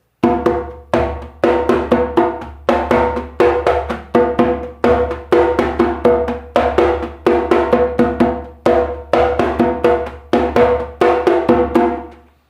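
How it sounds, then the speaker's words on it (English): A timbal hand drum plays a continuous samba duro groove, strong ringing strokes interleaved with quieter muted ghost-note taps that fill the spaces, close and loud. "But then we have the samba duro with the ghost notes"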